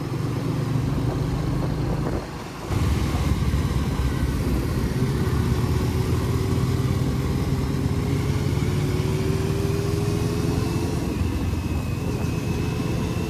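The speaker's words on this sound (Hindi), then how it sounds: "अपने दोस्त की डेटोना सुपर बाइक क्या बाइक है यार क्या भागती है" A Daytona superbike rides at night on Palm Beach Road in Navi Mumbai, its engine a steady loud drone with a rising pitch sweep, briefly dipping near the start before continuing under constant wind noise.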